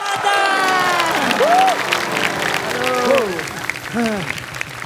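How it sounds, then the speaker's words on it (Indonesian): Studio audience applause and cheering on an Indonesian TV comedy show, a loud continuous crowd wash layered with a host's excited talk and sliding vocal exclamations. "Oke, tepuk tangan buat trio sepak dan juga trio macan."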